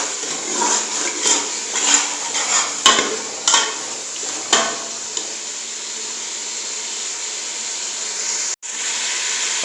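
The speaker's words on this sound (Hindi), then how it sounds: "अरबी को 3 से 4 मिनट के लिए भूनेंगे" Taro root (arbi) stir-fried in masala in a pan, a broad hissing sizzle with several sharp stirring knocks early on, then a steady fry with one abrupt break near the end.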